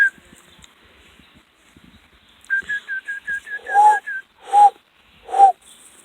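A baby bird gives a run of high, squeaky chirping calls, several quick notes in a row followed by three louder piping cries, close and clear in a quiet room with soft handling noises.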